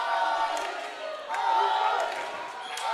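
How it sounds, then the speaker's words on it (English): Argentinian crowd at a women's foam dodgeball world championship match against Mexico, cheering and shouting in swelling waves, loud but slightly distant, with ball thuds and court noise underneath. "now we hear the Argentinian crowd rallying"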